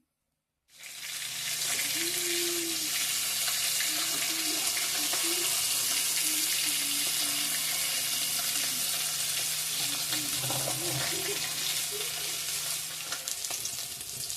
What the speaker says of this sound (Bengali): মাছটা ভেজা করব এখন